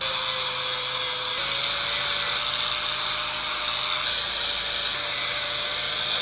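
Power tool stripping paint off the metal of a dump trailer, producing a continuous high-pitched whining grind at steady loudness throughout, close up with no talking.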